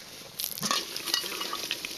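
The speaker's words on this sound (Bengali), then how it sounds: "ডিম ভাজা হচ্ছে এই যে দেখা যাচ্ছে" Eggs, farm-laid hen's eggs, frying in a pan outdoors at a picnic, with a soft sizzle, a few utensil scrapes and stirring clinks close by, starting quietly and then holding steady, with no talk.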